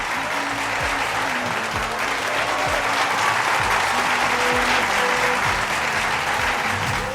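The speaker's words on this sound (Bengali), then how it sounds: "প্রীতি আক্তারের জন্য জোরে করতালি" A crowd applauding the women's category champion at a Dhaka running race prize ceremony, sustained dense clapping that holds steady and loud throughout.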